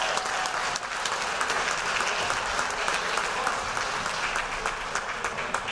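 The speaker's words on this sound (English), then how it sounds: "Let's give a round of applause to all of our scholar athletes." Audience at a fall sports athletic banquet applauds the scholar athletes: dense, steady clapping from a large room that holds at an even level for several seconds, with no voices over it.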